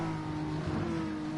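A Ford Mustang V8 race car in a racing video game, a steady droning engine note held at speed, close and continuous for a brief moment.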